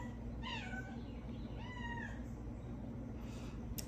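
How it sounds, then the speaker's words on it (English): Two loud, drawn-out kitten meows with rising and falling pitch, close by, over a steady low hum, followed by a brief faint high squeak at the end. "I'm not a fan of cats, but this one's very loud."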